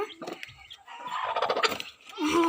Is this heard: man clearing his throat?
no